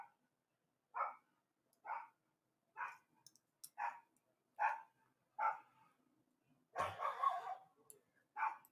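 A dog barks in steady, evenly spaced single woofs, six in a row, then a louder burst of scuffling or rustling before one more bark, outdoors on a windy, warm January day.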